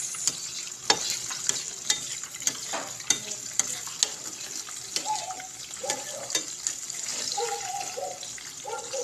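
Homemade gravy bubbles and sizzles in a pan while a spoon stirs it, with soft repeated scraping clinks and a steady close hiss.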